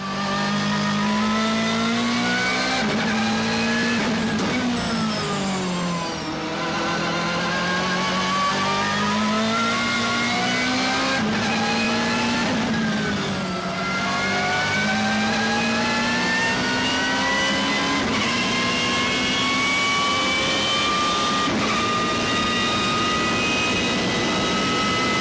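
A BMW M3 GTR race car with a straight-cut gear racing transmission, its engine revving and whining in rising and falling sweeps as it accelerates and shifts, loud and continuous throughout.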